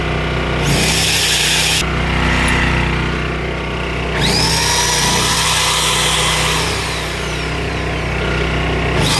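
A loud electric drill powered by a Generac GP1800 generator whirs steadily, its motor pitch rising and dropping as it starts, stops and revs again, close by.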